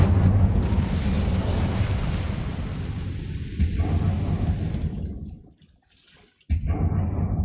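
An Incendio fire spell in Hogwarts Legacy bursts with a loud, roaring whoosh of flame that fades into near silence, followed by another sharp blast at the end.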